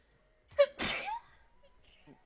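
A single close, loud sneeze, with a brief sharp intake of breath just before the burst and quiet room sound afterward.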